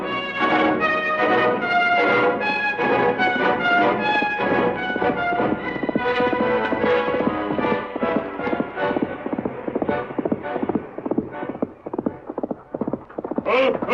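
Hooves of the Lone Ranger's horse Silver clip-clop in a steady galloping rhythm, loud and close as a sound effect in a classic Western radio drama, then slow into scattered beats near the end.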